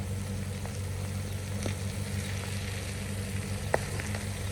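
Smelt frying in bubbling hot oil, a steady dense sizzle and crackle with occasional sharper pops, close and continuous with no talking.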